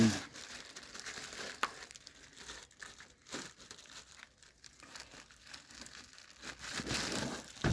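Crinkling plastic rustles up close in bursts, the bag crumpling and shifting as it is handled and knotted, with no talking.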